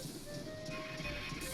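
A train rolls along in the Banjo-Tooie video game with a steady mechanical rumble and rhythmic clatter. A faint sustained tone sits above it, and the low end thickens near the close.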